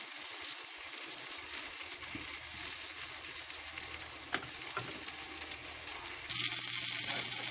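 Parsley is stirred into a karnıyarık filling of minced meat in a hot pan, a continuous close sizzle broken by a few spoon scrapes, with the frying briefly growing louder near the end.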